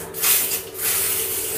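A bathroom hand shower sprays water at full force, a bright, close, continuous hiss that swells and eases slightly without ever stopping.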